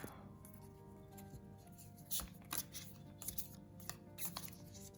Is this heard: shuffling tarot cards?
yes